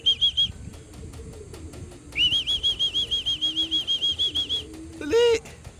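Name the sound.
racing pigeon flapping its wings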